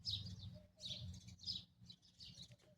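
Small birds chirping in short bright bursts, several repeated calls in an irregular rhythm, fairly close against a low rumbling hot-weather background.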